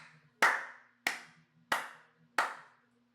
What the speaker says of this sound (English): You hear clapping from the doorway.